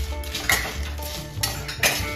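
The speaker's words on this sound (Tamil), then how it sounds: "சூடு வந்ததுக்கு அடுப்பை சிம்மில் வச்சுட்டு வறுத்துக்கோங்க" Whole spices for biryani masala are dry-roasted in a pan, with the scrape and clink of a stirring utensil against metal and a faint crackle, close and busy, with no speech.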